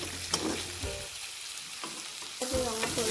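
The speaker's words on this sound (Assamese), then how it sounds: "এতিয়া মই সিজাই লোৱা আলুখিনি দি দিলোঁ, অলপ ভাজি থাকিম।" Boiled potatoes fry with spices in a pan for an Assamese fish curry: a constant crackling sizzle broken by scraping stir strokes and clinks of the spoon against the pan, close and alone.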